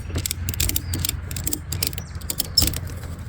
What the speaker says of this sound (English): And then you simply start